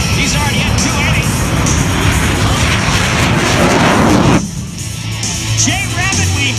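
An aerobatic airplane at an air show pulls up into a vertical loop, its engine a loud, steady roar that drops off sharply near the end, while an announcer talks over the noise.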